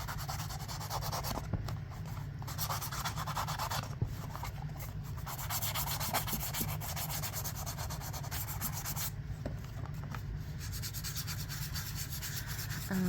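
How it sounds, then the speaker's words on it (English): A small sanding tool rubs along a paper edge to rough it, a continuous close scratchy rasping that runs steadily with brief pauses and shifts in stroke, quiet and alone. "I'm gonna come back around with my little sanding guy"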